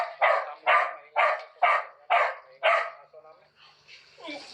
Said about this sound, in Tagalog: Maingay yung aso namin.